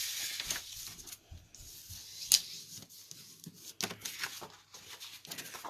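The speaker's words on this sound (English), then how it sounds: "I'm going to fold it back the other way." Paper is creased and folded by hand to make a gift bag, producing close, crisp crackles and rustles in short bursts with one sharper snap near the middle.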